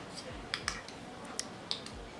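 Stiff synthetic false eyelash fibers flicked by fingers give a few light, crisp clicks at an uneven rhythm, close up but quiet over faint background hiss.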